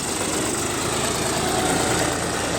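A tractor loader's loud, steady diesel engine idling while loading manure, with a rough, throbbing rumble that holds constant throughout, close by.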